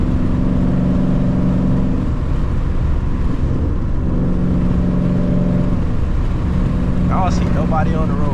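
Ford Mustang Striker engine rumbling and revving while driving on the road, loud and close with rising and falling throttle bursts over heavy wind and road noise, with a brief voice near the end.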